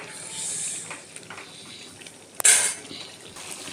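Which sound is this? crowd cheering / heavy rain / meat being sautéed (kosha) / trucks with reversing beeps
meat being sautéed (kosha)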